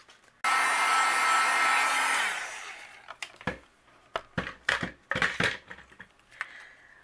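A heat gun blasts with a loud, steady whoosh for about two seconds while embossing gold onto a paper card, then stops, followed by several short crinkling and handling noises.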